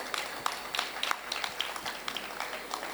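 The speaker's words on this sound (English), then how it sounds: "Another round of applause for him, please." Audience at a conference panel session gives a light round of applause, scattered claps fairly faint and distant over a quiet room for about three seconds.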